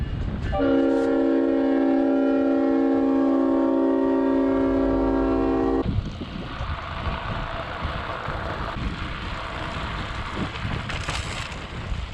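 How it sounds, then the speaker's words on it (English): A train horn blares steadily for several seconds, then cuts off, leaving the loud rumble and rattle of rail cars rolling past nearby, heard from a gravel bike riding alongside the train in Columbus, Georgia. "I've never ever ridden behind the draft of a train before."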